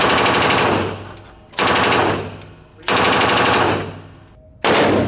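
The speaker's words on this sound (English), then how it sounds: "Classic Israeli Uzi shooting that 9mm pistol ammunition." Israeli Uzi submachine gun firing 9mm pistol ammunition in four loud, rapid bursts, each a dense rattle of shots with short gaps and fading echo between them.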